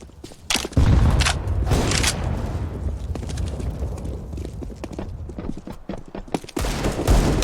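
Gunfire and a grenade blast in the game CS:GO, with loud, dense broadband bursts and rapid shots running almost continuously, punctuated by a few sharper heavy hits.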